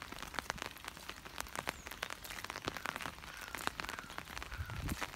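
Rain falls steadily on a hillside city viewpoint, a dense close patter of scattered drops hitting surfaces, fairly soft and continuous with no talking.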